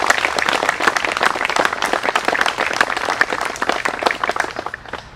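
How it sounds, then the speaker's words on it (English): A crowd at a Memorial Day ceremony in Melrose applauds steadily, many hands clapping in a dense, even burst that fades slightly toward the end. "also with a round of applause"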